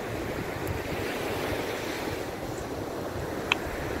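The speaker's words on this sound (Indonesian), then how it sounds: "Pernahkah kalian mendengar suara hembusan ombak?" Ocean waves wash steadily onto a shore, a continuous broad roar with wind over the microphone and no voices.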